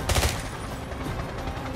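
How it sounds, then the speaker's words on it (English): Gunfire from the video game James Bond 007: Blood Stone, a quick burst of several loud, close shots up front followed by fainter scattered reports, with no talking. "That's a shotgun. No, that's a pistol."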